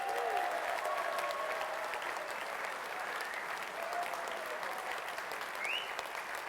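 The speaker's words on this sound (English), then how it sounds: "Please, round of applause." Steady applause from a large audience at the BAFTA Video Games Awards, continuous and even, with a few faint whoops over the clapping.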